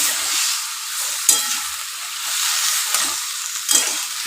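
Onions fry in oil in a pan for Bengali fish kalia, a steady close sizzle with a few brief stirring scrapes and bumps, no voices over it.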